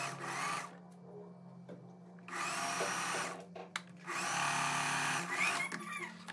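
A domestic sewing machine stitches a seam in fabric for a dress, running in two close, steady bursts separated by a quiet pause and light handling of cloth.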